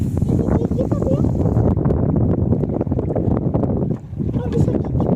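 Strong wind gusts buffet the microphone during an approaching storm while out collecting bait for longline fishing, a steady loud roar with people talking over it.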